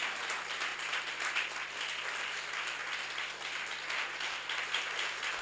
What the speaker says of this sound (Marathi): वाजवा की टाळ्या, बंद करून सांगितलं.